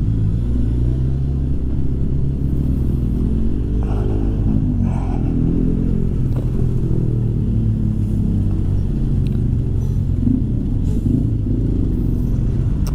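Steady rumble with engine drone and occasional revving from a 2021 Suzuki Katana 1000 motorcycle moving through traffic, loud and continuous, no talking.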